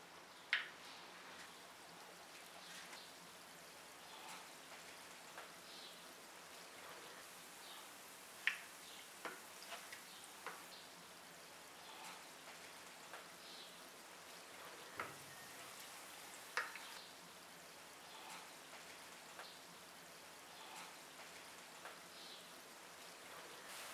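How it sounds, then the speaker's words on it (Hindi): Jam donuts frying in hot oil over medium-low heat, a soft continuous bubbling sizzle with scattered small pops, fairly quiet and steady for the whole stretch. "ऑयल गरम हो गया, अब इसमें डोनट्स को फ्राई करेंगे।"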